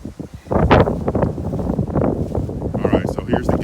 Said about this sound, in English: you guys can hear, man, it's really windy